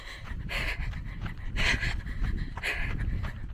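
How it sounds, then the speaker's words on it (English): A runner on a trail in Boise, Idaho, breathes hard at sunset, with steady, rhythmic heavy gasps up close and rough outdoor noise between them. "But mostly I need to focus on breathing."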